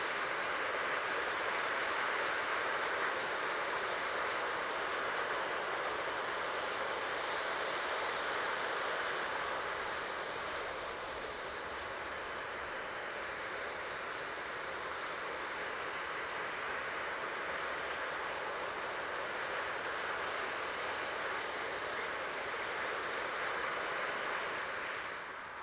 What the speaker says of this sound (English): that looked like a 6-engine spin prime test